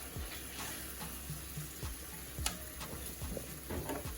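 Jamaican salt mackerel simmering in a pot, a constant soft bubbling hiss with scattered small ticks and pops, close and steady with no voices.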